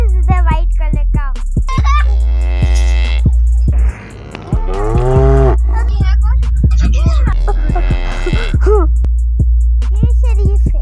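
A white cow at a cattle market gives repeated loud, drawn-out moos close by, with other cattle and a voice heard now and then in the background.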